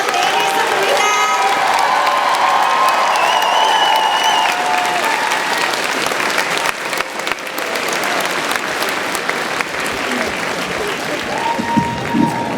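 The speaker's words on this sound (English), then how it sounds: "One more big round of applause for the ladies of Wheaton" Big convention panel crowd applauds and cheers for the women of Whedon, loud sustained clapping with whoops and a few raised voices throughout.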